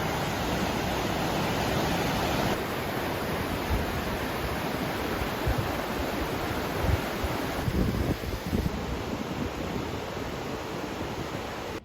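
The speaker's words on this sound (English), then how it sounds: "I've been hearing the river on and off" A river runs beside a rocky stretch of the Superior Hiking Trail near Jay Cooke State Park, giving a steady, close, broadband rush of flowing water with no talking.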